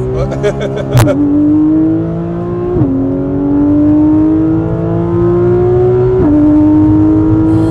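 A Porsche GT3 RS engine at Paul Ricard circuit climbs steadily in pitch through gears, with sharp shift drops and a loud whining in-car drone.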